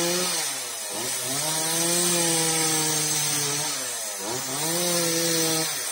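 A chainsaw cuts through a big branch high in a rain tree in a backyard garden in Vietnam's Mekong Delta. The engine whines loud and close, its pitch sweeping as it revs hard twice.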